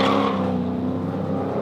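A grey Toyota 86 on a track day: a loud, steady engine drone from close by, holding a constant note for a brief moment.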